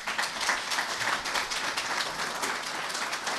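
An audience applauds at a poetry book promotion, a dense, even wash of clapping from many hands that stays steady and full for the whole stretch.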